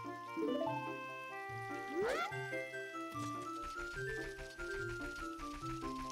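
Calm trickling water in the Ocarina of Time video game, a soft steady pour and dribble set under layered melodic game music.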